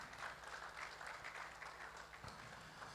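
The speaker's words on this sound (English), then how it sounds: "please clap your hands very well if you are clapping" A conference audience applauds throughout, a dense steady wash of many hands clapping with no gaps, moderately loud and fairly close.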